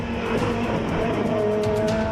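A 1990s British Touring Car Championship race car roars loudly and continuously at close range, engine note rising and holding over about two seconds with a brief squeal of tyres.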